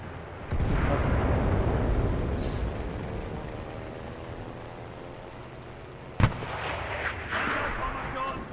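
Artillery cannons fire across a battlefield in the World War II shooter Enlisted, a sustained rumbling barrage with one sharp nearby blast near the end, under occasional voices.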